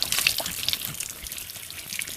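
Water splashing and dripping as a face is washed with both hands during wudu ablution, light close splashes early, then softer trickles and drips.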